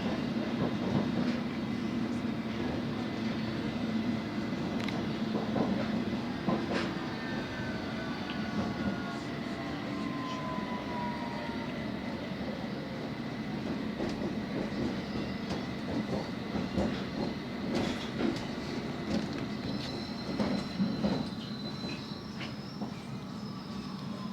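London Underground Hammersmith & City line train running between Hammersmith and Mile End, a steady low rumble of wheels and motors heard from inside the carriage, with squeals and rattling clicks over the track.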